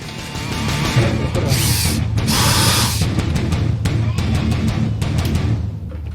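Drill bit boring tiny holes in a wooden guitar fretboard to hold small white sticks, with short whirring bursts and pauses between holes, close up and moderately loud.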